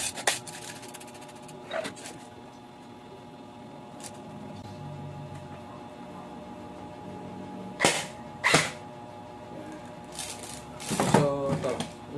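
A reconditioned seven-year-old airsoft rifle fires shots through a chronograph, giving sharp isolated cracks spaced a few seconds apart with a quick cluster near the end, over a low room hum with quiet talk between shots.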